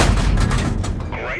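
A loud, heavy cannon blast erupts as a Churchill tank in a video game fires and strikes enemy armor, one dense booming burst that fills the short moment.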